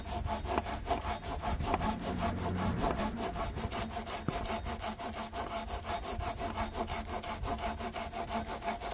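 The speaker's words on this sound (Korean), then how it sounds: "톱질만 지금 톱질만 해주고 가네" A hand saw cuts through lumber in a steady back-and-forth rhythm of rasping strokes, moderately close and continuing without pause, with no voices over it.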